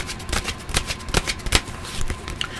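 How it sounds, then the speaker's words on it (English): Tarot cards shuffled by hand in a rapid run of papery riffles and slaps, close and fairly loud, with a few cards flying loose, bursts coming in uneven clusters. "got cards flying out"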